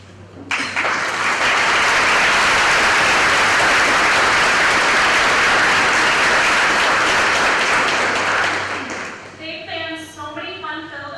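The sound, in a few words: audience applause thanking the PTA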